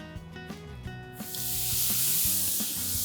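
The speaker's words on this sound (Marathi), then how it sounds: "तवा छान तापलाय. त्याच्यावरती आपण हा कांदा फिरवूया." Half an onion is rubbed over a hot griddle to keep shepu pole batter from sticking, and a sudden loud broad sizzle rises midway and holds steady over faint background hum.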